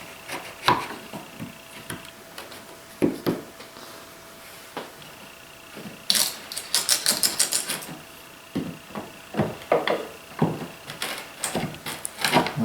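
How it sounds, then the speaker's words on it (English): Small leftover tabs being cut away by hand, a scattering of sharp clicks and snips at irregular intervals, close and fairly quiet, with a brief burst of quick rapid cuts partway through. "So I'm just going to cut those away, these little tabs."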